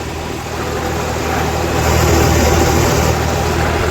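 A tractor engine idles during field preparation for mustard sowing, a steady, loud low rumble with a constant hum that swells slightly midway and holds for the whole stretch, with no voices.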